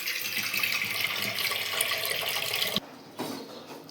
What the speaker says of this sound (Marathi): कुकरमध्ये आपल्याला थोडंसं पाणी ओतून घ्यायचंय